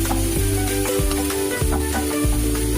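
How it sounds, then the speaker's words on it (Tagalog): Chopped onion sautéing in hot cooking oil for baked macaroni, a steady loud sizzle with a few stirring scrapes, close up and without talk. "Ngayon magigisa na po tayo ng onion. Igisa po natin hanggang sa maging malambot."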